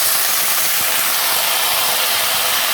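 Washed potato greens hit hot oil in a pan with frying eggplant seasoned with salt and turmeric, producing a steady, bright, even sizzle that holds without a break throughout.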